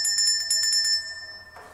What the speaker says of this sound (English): I ring this bell every time it eats